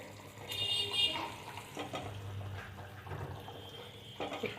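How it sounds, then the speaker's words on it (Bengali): Pabda fish pieces slide one by one into a simmering broth with coriander leaves, giving soft splashes and liquid bubbling over a low, steady cooking hiss. "একটু একটু করে মাছগুলো দিয়ে দিলাম ঝোলে"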